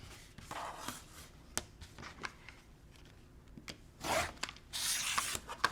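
A rotary cutter slices through fabric during cross-stitch finishing, making quiet, close rasping strokes with soft scratches and a couple of louder, longer swipes near the end.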